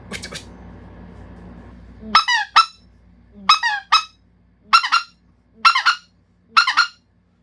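A speck goose call is blown in fast double clucks, with six short sharp honking bursts spaced evenly after a low rumbling lead-in, close and clear with no talk over them.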